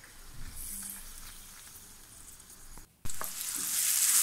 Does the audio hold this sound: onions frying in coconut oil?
yes